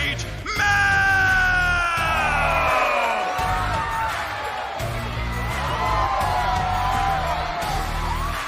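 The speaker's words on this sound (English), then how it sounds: "how did we get a crowd in the studio?" A studio crowd bursts into loud cheering, whoops and high yells after a champion is welcomed to the stage, a dense roar of voices that holds steady and close for the whole stretch.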